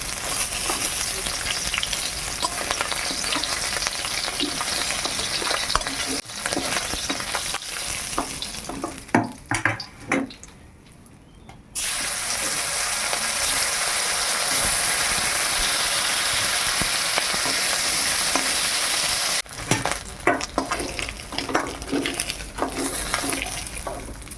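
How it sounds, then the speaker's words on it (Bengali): A large fish fries in hot oil while sour fish curry is being cooked, giving a loud, continuous sizzle with scraping and stirring clicks that briefly quiets midway before resuming. "বড়া মাছ ভাজা হয়ে গেল"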